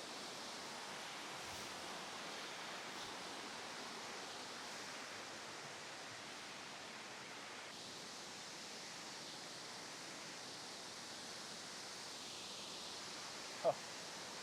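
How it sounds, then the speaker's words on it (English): Baxter Falls is pumping with water, a steady, even rush of falling water that fills the whole stretch at a distance, with no break or change. "And there you have Baxter Falls."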